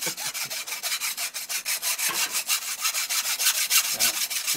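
Steady back-and-forth strokes of a hand saw cut through wood, a quick, even rasping rhythm of about four strokes per second, close and alone with no talk.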